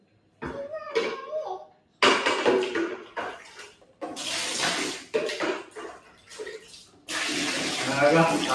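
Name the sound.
water being poured to fill Orbeez container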